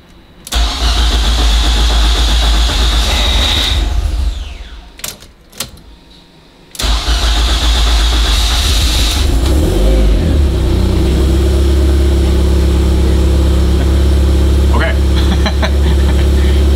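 An Abarth car engine, fitted with louder exhaust, cranks and fires, stumbles and restarts, then settles into a deep, loud, steady idle close by.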